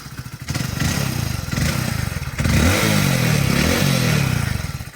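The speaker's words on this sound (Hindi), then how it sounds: "इसका एग्जॉस्ट साउंड सुनाता हूँ आपको।" A Hero Passion Plus commuter motorcycle engine idles with a throbbing exhaust note, then revs up loudly and holds a higher, rumbling pitch close by.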